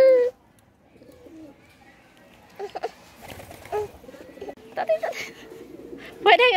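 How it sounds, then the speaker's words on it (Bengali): Pigeons cooing at a rural homestead, soft scattered coos and murmurs at close range, with faint background voices and a louder call near the end. "কবুতরের সমারোহ।"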